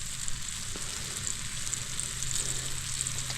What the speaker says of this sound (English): we'll let them sit there and sizzle for a while